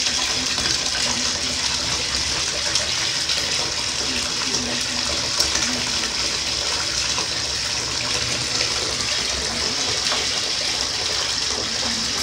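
Hot water running steadily from a tap, a continuous close gush and splash that stays even for the whole stretch.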